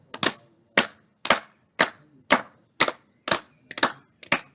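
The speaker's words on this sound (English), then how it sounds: "Now clap hands." Hands clapping as body percussion in a primary school music lesson. About ten sharp, crisp claps come at a steady, moderate pace, close and fairly quiet, with no talking.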